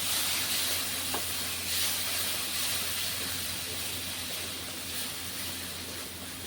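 Ground spice paste of coconut, cashew and tomato frying in a pan for potol chingri, a continuous broad hiss and sizzle that stays fairly even throughout, close with no talking.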